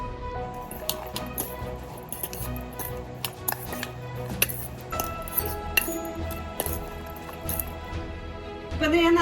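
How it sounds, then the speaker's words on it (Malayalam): Salad being tossed in a bowl with black pepper and red chilli flakes, giving repeated clinks, taps and soft squishy scrapes in an uneven rhythm, close and fairly quiet, with a steady low background hum underneath. "ഇനി നമ്മൾ ഇത് നന്നായി മിക്സ് ചെയ്യാൻ പോവുകയാണ്."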